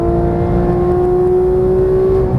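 A Porsche GT3 climbs through the revs on a Las Vegas track, a loud, steady in-car engine drone holding a sustained pitch that lifts gently over a couple of seconds.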